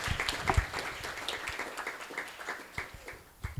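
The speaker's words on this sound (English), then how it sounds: "let's give them a big round of applause for their contribution" An audience at an energy forum in Eswatini applauds the panelists: scattered, uneven hand claps of moderate loudness that thin out and pick up again, with a few sharper nearby claps.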